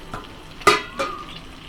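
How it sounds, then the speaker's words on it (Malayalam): Cooked macaroni being stirred into white sauce in a pan, two distinct scraping, clattering strokes of the spoon against the pan over a faint background, close and fairly loud, with no talking. "ഇനി ഇത് നന്നായിട്ടൊന്ന് മിക്സ് ചെയ്തെടുക്കാം."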